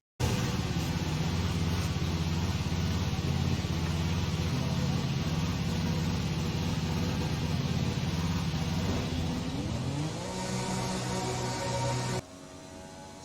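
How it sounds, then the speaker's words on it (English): A Honda Formula 1 power unit in the racing game F1 2020, running steadily and loudly at a constant idle-like pitch for many seconds before the tone shifts and drops, then cuts off abruptly near the end. "Let's take a listen as we fire up this Honda power unit for the first time."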